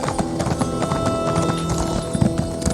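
Horse hooves clip-clopping at a gallop in the Elder Scrolls Online video game, a rapid, steady run of close hoofbeats with a brief whinny and faint game sounds underneath.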